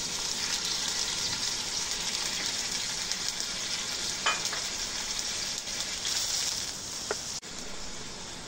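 Onion, garlic and ginger paste fries in a pan for a fish bhuna, giving a steady, moderately loud hiss with occasional faint clinks and a brief dip near the end.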